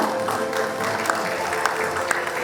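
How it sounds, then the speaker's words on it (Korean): Audience applause at the 2025 The Fact ESG management awards ceremony honouring LG Energy Solution, a continuous even patter of clapping from a seated crowd, moderately loud with a few sharper claps standing out. "LG 에너지 솔루션도 감사의 박수 드리겠습니다."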